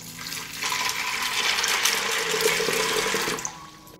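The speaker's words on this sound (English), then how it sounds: "I pour a liter of water into the pot and wait for it to boil." A liter of water is poured into a cooking pot for boiling beans: a steady, close rushing pour lasting a few seconds before it tapers off.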